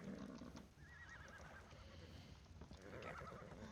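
A video game horse whinnies in a quavering neigh, joined by soft hoof clip-clops and a second whinny near the end, all fairly quiet.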